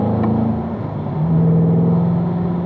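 A car on a driving-school track powers out of a corner in fourth gear, its engine a loud, steady drone whose pitch climbs as it accelerates, with no talking.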